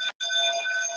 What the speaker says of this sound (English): got a fire alarm